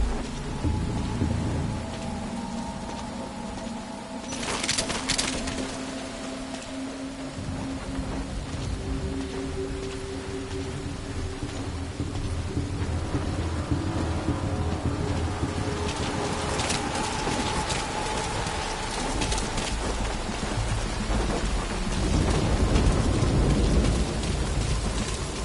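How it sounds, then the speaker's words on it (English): Steady rain pours down in Metal Gear Solid V while thunder rumbles in the distance, rolling low and swelling at times, with no voices. "That rain just won't let up."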